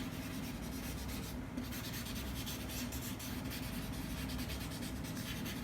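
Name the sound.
paper tissue rubbing vine charcoal on paper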